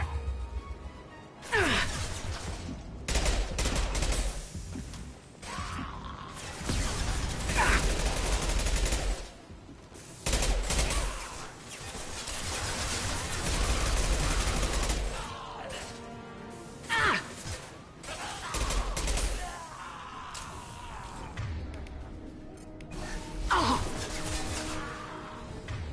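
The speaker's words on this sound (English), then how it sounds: "Taking heavy fire!" Heavy gunfire erupts in the video game Mass Effect 2, with rapid bursts and sharp shots crackling in irregular clusters alongside impacts and crashes, at modest level throughout.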